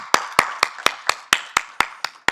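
At a university association general meeting, a few hands give even, well-spaced claps, about ten sharp, fairly close strikes in a steady rhythm rather than a full crowd's applause.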